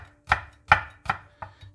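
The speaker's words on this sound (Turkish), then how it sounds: "Kıyabildiğiniz kadar ince kıymalısınız." A knife finely chopping thin hot peppers on a cutting board for a Greek-style cheese meze, four or five crisp, evenly spaced chops heard up close with no talk.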